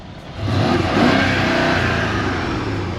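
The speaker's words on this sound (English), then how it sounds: "Oh, revving someone else's car." A car engine revs hard close by, likely an Audi or BMW 3.0-liter turbo at a car meet, rising quickly from idle into a loud, sustained mid-range roar with no talk over it.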